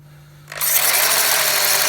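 After a brief quiet moment, a Bosch GHB 4-32 rotary hammer drill starts up abruptly and runs loud and steady at close range.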